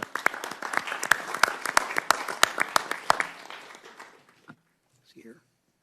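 Applause from a congressional committee hearing room, a dense burst of clapping lasting about three seconds and fading out, followed by a brief faint voice at the end.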